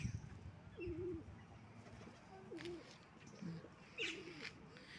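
Pigeons and other birds coo softly from thick tree branches near a jetty, a few low rolling calls spaced a second or so apart, faint and somewhat distant over a steady outdoor hum.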